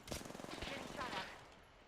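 Faint, rapid automatic gunfire from the video game Apex Legends, a quick burst of repeated shots followed by a couple of softer bursts, distant and low in level.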